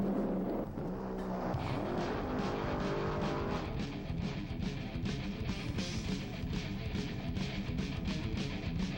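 A nitro-burning top fuel dragster engine runs loud and continuous, a dense rumbling roar with crackling texture that shifts character partway through, heard alone without talk.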